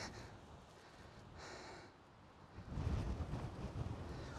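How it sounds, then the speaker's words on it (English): Blustery wind gusting outdoors by a body of water in open kangaroo country, a rough rushing roar buffeting the microphone, swelling louder in the later seconds. "Oh, that's windy."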